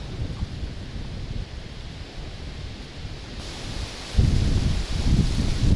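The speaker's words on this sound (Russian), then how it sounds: "Это сейчас вот что-то ветерок разгулялся" Strong gusting wind buffets a lakeside while fishing, a continuous rushing roar that swells into heavier blasts near the end, with no talking.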